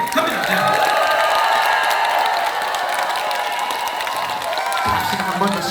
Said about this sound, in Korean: 여러분들이 내릴 수 있는 가장 큰 소리로 환호를 해주십시오